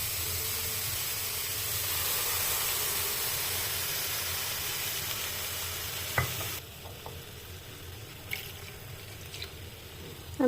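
Carrots fry in a pan for carrot halwa under a steady, soft sizzle. After a few sharp scrape-and-tap strokes of a stirring spoon, the sizzle drops to a quieter hiss.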